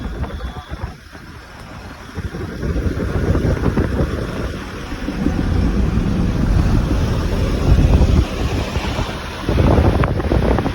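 Strong wind buffets the microphone in rumbling, gusting waves, loud and continuous with no clear talk.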